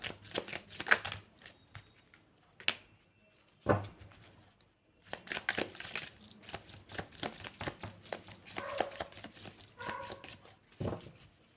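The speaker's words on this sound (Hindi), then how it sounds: "This is my last shuffle." A deck of cards is shuffled for a card reading in several quick riffling bursts, with pauses between them and a longer run of shuffling in the middle, close and fairly soft.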